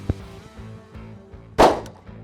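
A Canik MC9 pistol fires one sharp, loud shot, with a faint tap just before it and a steady low hum in the background.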